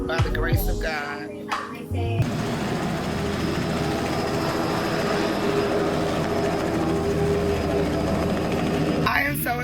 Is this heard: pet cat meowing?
no